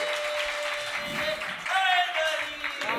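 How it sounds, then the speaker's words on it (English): Crowd applause welcoming performers at a talent show audition, moderate clapping running throughout, with sustained tonal sounds and some voices layered over it. "A big round of applause to welcome them."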